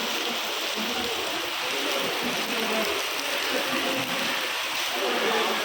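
Heavy downpour at the Tiruchendur Murugan temple, a dense, steady hiss of rain falling continuously on surfaces, fairly close and filling the whole clip with no breaks.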